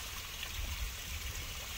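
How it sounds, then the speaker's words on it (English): Water runs down a partly iced-over waterfall in a steady, fairly quiet rushing flow that holds even and unbroken throughout, with no voices over it. "You can hear the water running."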